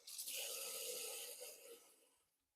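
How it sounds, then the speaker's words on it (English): Cold tap water running into a kitchen sink, a steady hiss and splash close by that holds for about two seconds, then tapers off as the flow is shut. "So get your water running nice and cold"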